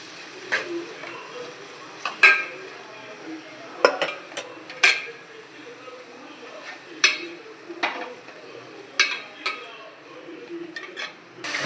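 Onions and tomatoes sauté in a pan for a chicken curry, faint sizzle beneath sharp, regularly spaced clinks and scrapes of a spoon stirring against the metal.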